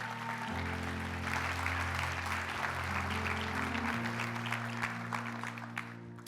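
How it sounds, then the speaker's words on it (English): An audience welcomes a district attorney to the stage with steady, fairly faint applause, heard over sustained background music that holds throughout. "would you put your hands together and join me in welcoming Lisa Smittcamp to the stage?"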